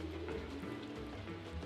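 Rain falls steadily in the video game Stardew Valley, a soft continuous patter with low rumbling undertones, faint and even throughout.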